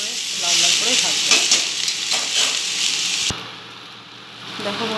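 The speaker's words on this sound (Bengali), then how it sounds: "চাল কুমড়ো কেটে ভাজতে থাকবে, খুব ভালো করে লাল লাল করে ভাজবে" Ash gourd pieces frying in a pan with panch phoron, a loud crackling sizzle with stirring scrapes that suddenly drops to a quieter simmer partway through, no speech.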